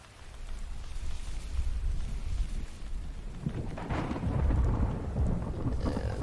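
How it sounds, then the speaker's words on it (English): Rain and rolling thunder in the survival video game The Infected, a steady downpour under low, building rumbles that swell louder toward the end, with no voices. "I was hoping it wasn't gonna rain again today,"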